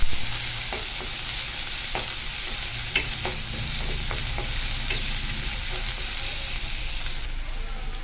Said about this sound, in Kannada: ಆಮೇಲೆ ಇದಕ್ಕೆ ಈರುಳ್ಳಿ ಕಟ್ ಮಾಡಿದ್ದುಂಟಲ್ಲ ಅದನ್ನು ಹಾಕಿ ಸ್ವಲ್ಪ ಬ್ರೌನ್ ಆಗೋ ತನಕ ಫ್ರೈ ಮಾಡ್ಕೊಳ್ಬೇಕು